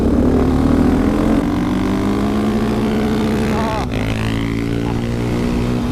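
Engines roar loudly and steadily as a KTM 690 SMCR and a Husqvarna 701 supermoto accelerate side by side, their pitch rising through the gears, close by and continuous.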